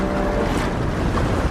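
Rough, high sea waves roar in a storm near a lighthouse, a loud, dense wash of surging water and wind noise with no break.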